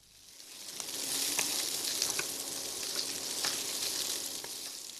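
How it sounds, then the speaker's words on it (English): Peppers, shallots and ginger sizzle and crackle in a hot pan, a steady close frying hiss with small pops and the odd stir. "That's the sound of peppers, shallots and ginger frying in a pan."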